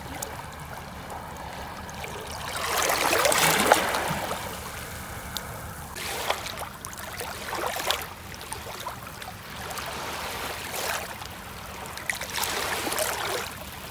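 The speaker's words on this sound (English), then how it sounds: "I'm holding the phone just down by the water here so we can listen to the waves." Gentle waves wash in and recede at the shoreline in slow surges, with soft trickling water between them, close by and fairly quiet.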